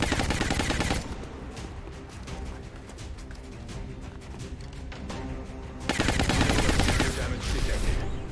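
Gunfire from the strategy game XCOM Long War: a loud, dense burst of rapid shots and automatic fire, easing into scattered cracks before a second heavy volley erupts, with no one talking.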